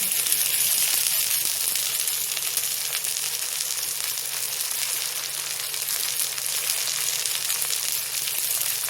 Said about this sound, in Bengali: এখানে দুটো কেটে রাখা টমেটো দিয়ে দিচ্ছি